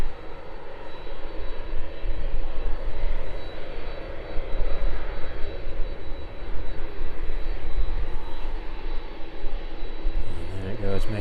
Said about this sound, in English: That 737 MAX rapidly making its way down.